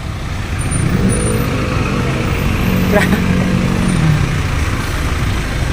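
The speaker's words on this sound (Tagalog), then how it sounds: "Traffic kayong situation karon guys" Road traffic on a congested night street near Banilad gives a steady rumble of car and truck engines close by, with a low engine drone, a passing vehicle and a faint high whine over the continuous roadway noise.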